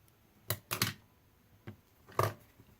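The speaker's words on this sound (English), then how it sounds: "We are going to take our orange felt and we are just going to cut out a triangle just like this." Scissors snip through orange felt to cut out a triangle, making a few short, crisp close cuts spaced unevenly, with near silence between them.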